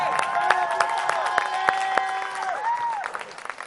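An audience at a Rotary Youth Exchange presentation claps for the performers, with distinct sharp claps over a hall crowd and a sustained musical tone that fades near the end.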